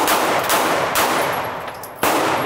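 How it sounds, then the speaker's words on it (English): Rapid gunfire at an outdoor shooting range, several loud close shots in quick succession with a sharp burst near the end, heard alone without talk. "Nice shooting"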